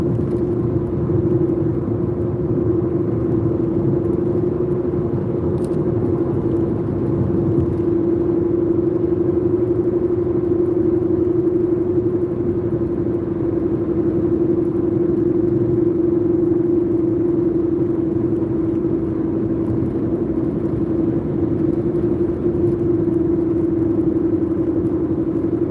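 Strong wind blows steadily beside a rough, choppy lake, a constant loud rumbling roar buffeting the microphone with no break for the whole stretch.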